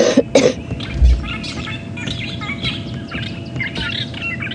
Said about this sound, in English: fork-tailed drongos making a racket around us